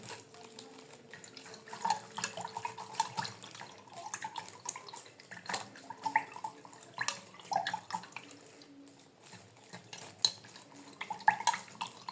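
Water sloshing and swirling as it is stirred in a container, with light clinks and drips in an uneven rhythm, close by and fairly quiet.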